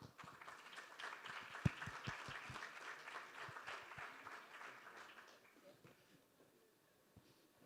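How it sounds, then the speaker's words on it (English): A conference audience applauds with scattered sharp claps that swell, then thin out and fade to near silence, heard faintly and at a distance. "Warm round of applause."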